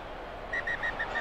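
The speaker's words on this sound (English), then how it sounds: "The ref blows his whistle" A referee's full-time whistle in Rugby Challenge 2, heard as a rapid series of about five short, shrill pips in quick succession over a low crowd murmur.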